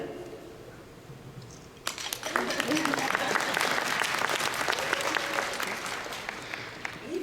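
Applause from a comic convention panel audience breaks out suddenly after a quiet moment, a dense, steady wash of many hands clapping that holds loud and even and only slightly fades by the end.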